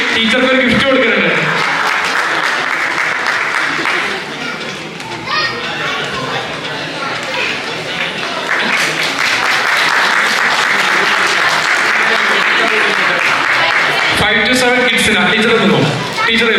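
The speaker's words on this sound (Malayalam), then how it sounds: "ആദ്യം ടീച്ചർക്കാണ് ഒരു കയ്യടി" Loud, sustained crowd applause fills a hall at a Kerala Association of PEI Onam celebration, mixed with excited children shouting and chattering, while voices talk over it.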